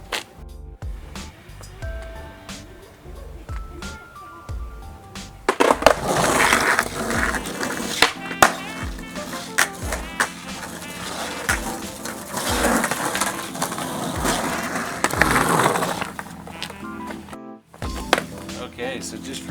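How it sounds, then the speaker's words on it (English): A skateboard on new wheels rolls over pavement near a skate park, giving a rolling rumble broken by sharp clacks and thunks from the board. People talk in places over it. "just from that first little glide on this pavement, these are like a dream"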